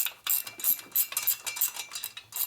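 Ratchet clicking as head bolts are tightened on a Harley-Davidson Shovelhead engine top end, a close, fast run of light metallic ticks in bursts with brief pauses.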